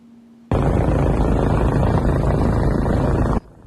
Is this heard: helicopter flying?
yes